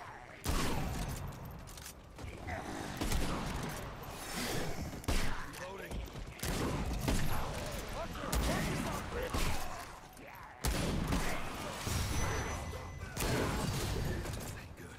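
Rapid gunfire crackles in loud repeated bursts during a co-op fight in Remnant 2, dense and close with brief pauses between volleys, while players talk over it.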